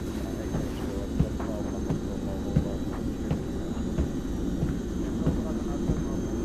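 Helicopter in the video game S.T.A.L.K.E.R. 2 produces a low, throbbing rotor hum with regular soft thumps, steady and close throughout, under a faint bed of background noise.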